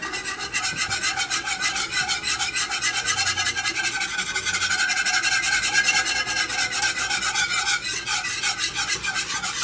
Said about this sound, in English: So you're going to want to stir that up with a whisk.